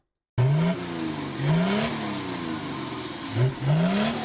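A naturally aspirated Volkswagen D24 2.4 liter inline-six diesel revs hard in a series of rising, sweeping blips, loud and close, with brief dips between each throttle stab and no talking.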